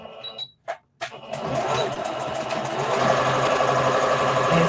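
After a few brief clicks and handling noises, a sewing machine starts up and runs steadily and loudly at close range, stitching a fabric bunny ear for an Easter treat bag.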